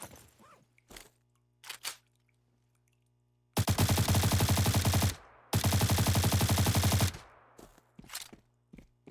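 Suppressed gunfire from a video game rifle: two sustained rapid-fire bursts of muffled shots, each lasting over a second, separated by a short pause, with sparse clicks and faint handling noises around them and no talking.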